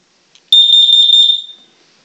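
A household smoke and carbon monoxide alarm under test lets out a single loud, piercing electronic shriek after a brief chirp. The tone holds for about a second, then fades quickly into silence.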